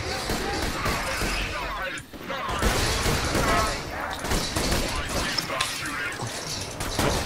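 Dense, continuous gunfire and explosive crashes from a firefight in the video game Borderlands 2, loud throughout with a brief dip near the two-second mark, while several people talk over it.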